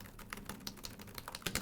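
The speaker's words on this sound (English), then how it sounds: "And if you're typing away furiously" Fast typing on a laptop keyboard, a rapid, uneven patter of light key clicks close to the mic, fairly quiet, with no voices.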